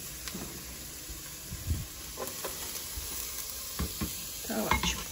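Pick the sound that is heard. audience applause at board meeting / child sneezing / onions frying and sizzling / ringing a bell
onions frying and sizzling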